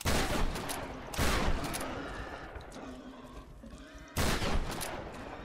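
Gunfire from Tomb Raider (2013), loud bursts of shots at the start, middle and end with a rumbling, echoing tail fading between them.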